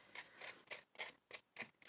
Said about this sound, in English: So I just used the scissors.